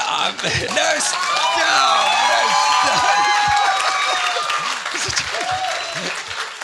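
A church congregation applauds loudly at a wedding celebration, with cheers and whoops rising through sustained clapping while voices call out over it.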